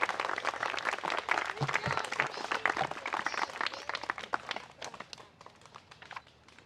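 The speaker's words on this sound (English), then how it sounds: "Let's give another big round of applause to the Abingdon Elementary School 4th grade" Audience applause at an outdoor commemorative ceremony for the Battle of the Hook, a dense round of clapping from a crowd that stays full and steady, then thins slightly toward the end.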